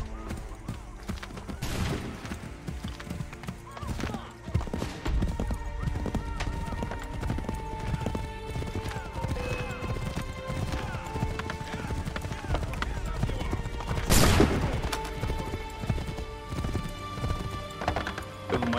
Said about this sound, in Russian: Бери лошадь, Радунхагейду.